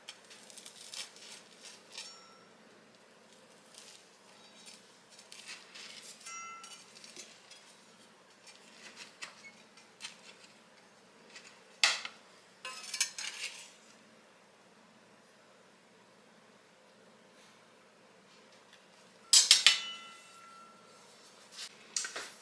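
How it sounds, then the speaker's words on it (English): Metal spatula scraping and chopping through a patty melt made with leftover Mississippi pot roast and jalapeno in a pan, quiet clicks and scrapes scattered over a faint sizzle, with a few sharper knocks. "I'm going to see if this spatula right here will just let me chop right through there."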